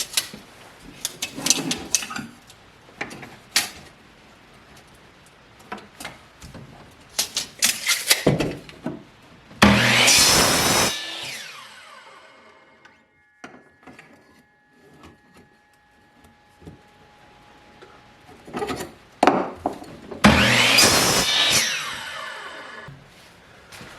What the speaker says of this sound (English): So I'm going to go cut 10-inch pieces off this fiberglass rake handle.